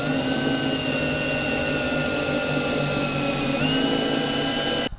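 A power drill whines steadily at a constant pitch, drilling holes in a cabinet nearby, then abruptly cutting off at the end.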